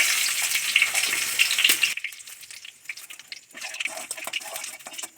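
Whole cumin seeds hit hot oil in a pan just used for frying okra, a bright, loud sizzle for about two seconds that then drops to a quieter crackle with faint stirring.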